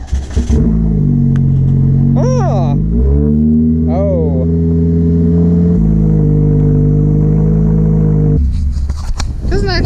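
A straight-piped Chevy 2.5 liter four-cylinder engine revs up loud and close, falling back to a steady raspy idle between pulls, with a brief exclaimed voice in between.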